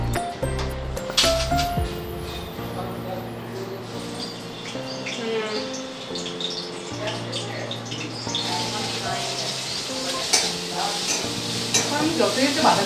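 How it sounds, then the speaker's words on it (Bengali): Vegetables, cabbage among them, hit hot oil in a home kitchen and sizzle steadily while being stirred, with scraping and clinking throughout and a background tone humming underneath. "এবার হচ্ছে তেলটা গরম হলে হচ্ছে আমরা এই সবজিগুলোকে দিয়ে দিই।"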